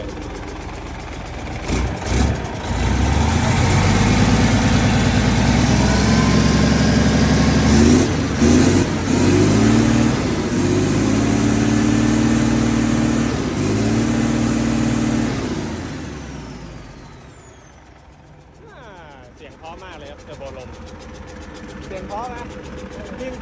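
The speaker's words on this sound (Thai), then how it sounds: "เร่งเครื่องเลยเร่งเครื่องเลย" A turbocharged S700 car engine revs and roars loudly and steadily for about fifteen seconds, then drops away, with voices talking over it.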